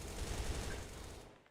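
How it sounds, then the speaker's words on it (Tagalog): Rapid automatic fire from an HK rifle in the Battle of Lost Empires shooter game rattles as a dense, continuous burst that tails off abruptly, heard without speech. "Parang HK ang baril."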